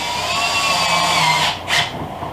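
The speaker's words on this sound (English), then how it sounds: "this lip is urethane, which means it drills, it screws easy" A power drill drives screws into the urethane lip of a new bumper for a 2005 Pontiac Grand Prix: a steady, close whirring whine that dips briefly and then spins back up near the end.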